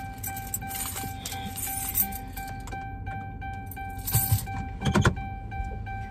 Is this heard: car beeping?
yes